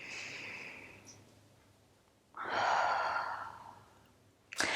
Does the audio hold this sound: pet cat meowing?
no